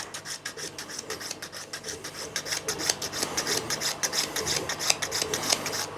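Rapid, rhythmic rasping of sandpaper scrubbing back and forth across a ridge on a stegosaurus model, close and steady for several seconds.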